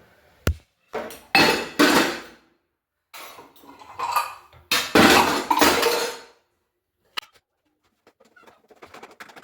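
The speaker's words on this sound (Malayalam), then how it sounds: "പാത്രം തിന്ന പാത്രങ്ങളുണ്ട് ഇവിടെ അതൊക്കെ ഒന്ന് വാഷ് ചെയ്യാം" Used dishes being washed by hand, with irregular bursts of clattering plates and clinking utensils separated by short quiet gaps, close and fairly loud, with no talking.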